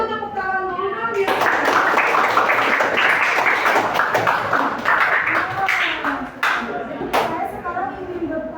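A school group claps hands together in a steady burst of applause lasting several seconds, with children's voices mixed in near the start.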